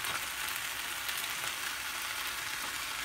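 Steady, soft sizzling of turmeric, garam masala, fennel and coriander powders frying in a hot pan for green peas gravy, continuous and even without a break.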